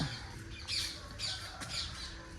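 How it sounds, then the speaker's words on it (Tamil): A green parrot squawks near a home, giving three rough, harsh calls in a steady rhythm over a constant background hiss. "இந்த கிளியோட பச்சை கிளி சத்தம் கேட்குறதுக்கே"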